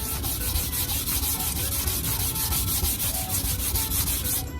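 Steady, rhythmic back-and-forth rasping of light hand sanding with a fine grit sanding sponge on a tumbler, close up and continuous for a few seconds without speech.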